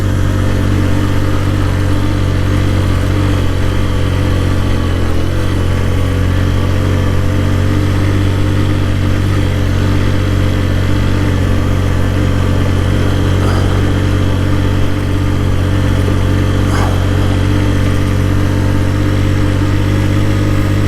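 A motorcycle labors up a steep gravel road in first gear, its engine droning loud and steady throughout with a constant low hum and no pauses.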